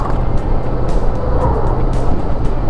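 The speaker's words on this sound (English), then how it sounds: "Lots of trucks" Heavy highway traffic with many trucks on the I-40 Hernando de Soto Bridge over the Mississippi at Memphis, a steady loud broadband road roar with passing swells, heard from inside a moving vehicle.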